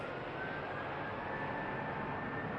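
A Lufthansa Airbus A321 at Manchester Airport, a steady broadband engine roar holding level throughout, fairly distant with a faint tonal whine riding above the rumble.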